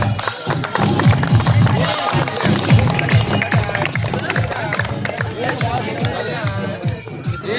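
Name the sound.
audience clapping at cricket tournament felicitation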